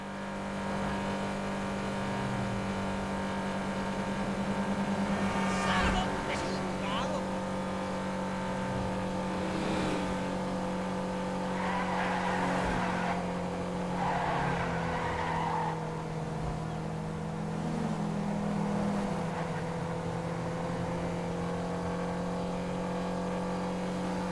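A hybrid car engine in GTA V Online hums steadily with gear-like pitch shifts and occasional tire squeals, a continuous mechanical drone with game-like engine tones.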